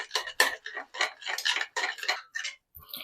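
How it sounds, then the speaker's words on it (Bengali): Spice mix being whisked into yogurt in a bowl: quick, steady rhythmic clinks and scrapes of a utensil against the bowl, close and clear, with no talking. "এই মশলাটা আমি এই দইয়ের মধ্যে ভালো করে মিশিয়ে নেব।"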